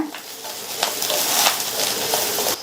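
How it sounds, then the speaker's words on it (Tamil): Onion, garlic, green chilli and tamarind sauté in a pan, giving a soft continuous sizzle broken by a few scraping stir strokes, fairly close and moderately quiet. "வெங்காயம், பூண்டு, பச்சை மிளகாய் எல்லாமே நல்லா வதங்கிருச்சு"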